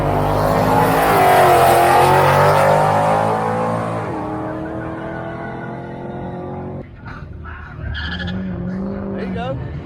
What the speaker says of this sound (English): we're just gonna watch a little bit of drag racing real quick